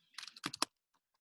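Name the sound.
typing text on a computer keyboard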